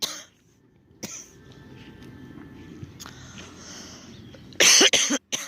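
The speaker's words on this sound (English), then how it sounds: "I'm sorry I'm coughing" A person coughs outdoors in dry air during hand land clearing, a few sharp, close coughs with a harsh, loud burst near the end over quiet outdoor background.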